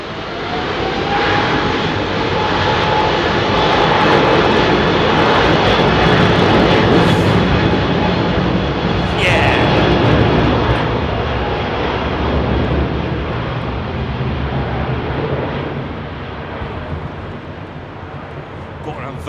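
A jet airliner departs London Heathrow Airport on a windy day: a loud, steady engine roar fills the whole stretch, swelling slightly in the middle and easing toward the end, with voices faintly underneath.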